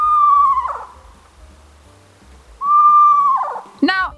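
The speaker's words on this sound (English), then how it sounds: "their regular calls actually sound more like a horse's whinny" Recorded owl call resembling a horse's whinny, played from a computer: two loud descending quavering wails separated by a pause, the second followed by a short sharp dog-like bark.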